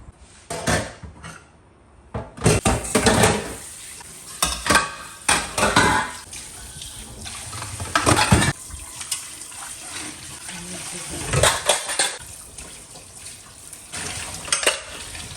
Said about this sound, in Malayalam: ഇപ്പോൾ ഉള്ള പാത്രങ്ങൾ മാത്രമേ കഴുകാനുള്ളൂ.